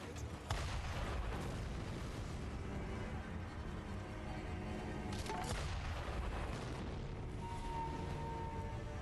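Cannon fire in the video game Sekiro: dull, distant booms and blasts rumbling under a continuous low background, with a sharper report near the start and another around the middle.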